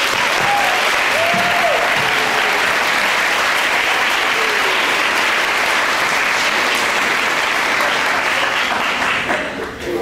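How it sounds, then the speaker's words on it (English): Sustained applause from a school audience at a Communities in Schools kickoff celebration in Wyoming County, West Virginia, steady and full throughout before tapering slightly at the end. "Let's give all of our guests a warm round of Westside applause."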